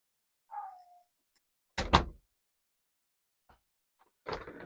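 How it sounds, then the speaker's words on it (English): A door swings shut with a solid thunk after a brief creak, a single close impact in an otherwise quiet room, followed by faint small knocks and a last rustle of movement. "And let's close the door here."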